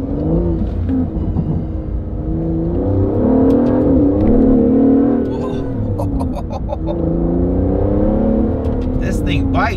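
Aston Martin DBS Superleggera convertible accelerating on cold tires, a loud close engine roar rising and swelling in pitch, then easing. A voice speaks over it.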